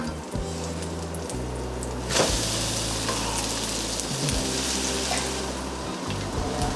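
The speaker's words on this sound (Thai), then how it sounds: "ชาอมทอดไข่ของเรานะคะ ก็สีเหลืองสวยงามแล้วค่ะ" A cha-om and egg omelette fries in a pan with a steady, close, crackling sizzle that runs throughout, with a brief clatter partway through and no voices.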